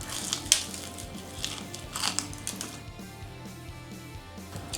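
Close, crisp crunching as teeth bite into crispy fried chicken wings at a BrewDog wing challenge, a few sharp cracking bites followed by quieter chewing, fairly faint with no talking.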